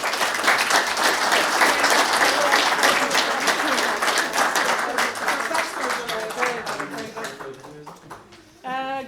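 A seated political meeting audience gives a warm round of applause for the party chairwoman, a dense sustained clapping that fades toward the end before a voice begins speaking.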